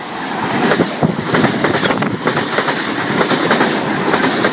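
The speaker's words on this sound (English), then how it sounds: "We have a V-set approaching platform 1." A Sydney Trains V-set intercity train passing through Pennant Hills station, loud and close, with a steady rumbling roar and a rapid clickety-clack of wheels over rail joints throughout.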